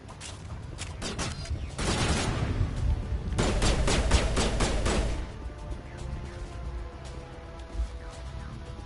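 Mass Effect gunfire: bursts of rapid automatic shots in two dense volleys, loud and close, with scattered single shots and a thud trailing off afterward, faint game voices in the background.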